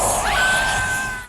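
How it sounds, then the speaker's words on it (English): Woman's high, sustained scream from the 1990 horror film Graveyard Shift, loud and piercing, holding one pitch before cutting off abruptly. "What's the girl version of a Wilhelm scream?"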